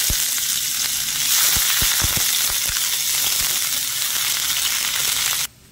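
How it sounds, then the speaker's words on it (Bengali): One chopped medium onion frying in hot mustard oil, a loud, close sizzle with popping crackles that runs steadily, then cuts off abruptly near the end. "পেঁয়াজটা হালকা আছে একটু ভেজে নেব।"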